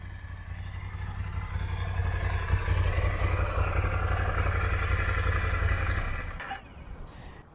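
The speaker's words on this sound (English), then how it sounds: "This is how it sounds, kind of far away. It's pretty quiet, honestly." A 2019 Ducati Scrambler Icon motorcycle idles some distance away with a quiet, even, low rumble that continues steadily for several seconds before fading out.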